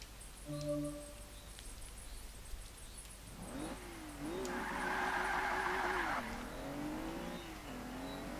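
A 2014 Rolls-Royce Wraith drifts in Forza 5, engine rising from quiet into a sustained tire squeal and revving that hold for a couple of seconds before easing off.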